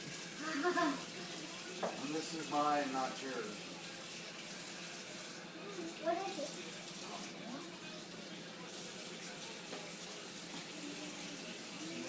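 Tap water runs steadily into a kitchen sink during dishwashing, a constant close hiss and splash beneath the chatter of a child and an adult talking.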